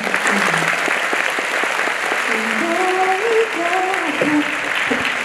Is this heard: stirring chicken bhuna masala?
no